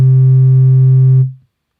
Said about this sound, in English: when I turn up this, it's going to give harmonics